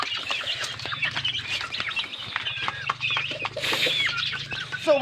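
Young chicks fed chick booster feed cluck and peep busily, with dense overlapping calls and scratching throughout, close and fairly loud with a low hum underneath.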